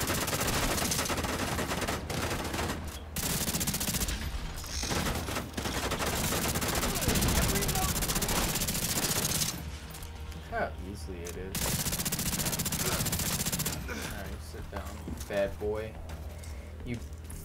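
Rapid turret gunfire in the shooter game The Division 2, dense sustained bursts of shots that pause and resume, heard under a player talking.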